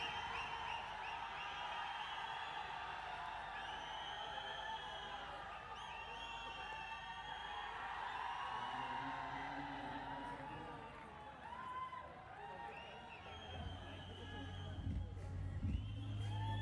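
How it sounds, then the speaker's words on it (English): Cricket crowd at a World Legends T20 Pro League match cheering a single, a broad sustained roar of many voices with whoops, swelling and then easing off, heard at a distance. "Single gets a huge appreciation from the crowd. I think that's the biggest cheer we've heard all day."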